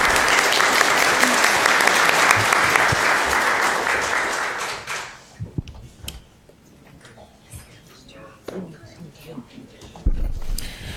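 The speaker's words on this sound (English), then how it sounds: "So if we could have a round of applause" Audience applause following a panel discussion, a dense burst of clapping for about five seconds that dies away into scattered room noise and a few faint taps, with some voices in the room.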